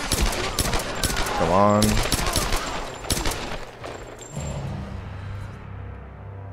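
Rapid bursts of gunfire from the Tomb Raider video game fill the first half, with a clear voice speaking over the shots before the noise thins into a lower, steadier rumble.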